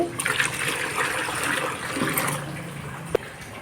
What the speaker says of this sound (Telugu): టబ్లో టబ్ నిండా వాటర్ పోసుకుందాం ఇప్పుడు